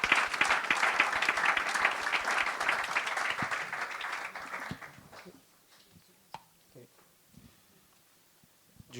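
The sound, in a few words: congregation applauding in church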